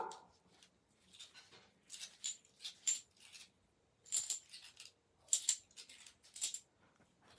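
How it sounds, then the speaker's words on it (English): Several dogs bark at the neighbors outside, heard through open windows, in scattered bursts, somewhat distant and muffled, with short pauses between volleys. "that's also why you can hear the dogs because I have the windows open"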